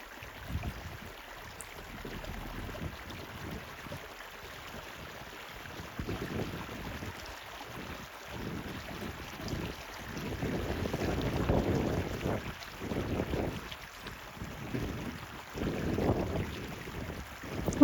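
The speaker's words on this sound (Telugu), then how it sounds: "వాటర్ సౌండ్ చాలా బాగుంది కదా." Water flowing in a natural swimming pool among mountains, a steady broadband rush and wash that swells in gusty waves, fairly close, with no voices.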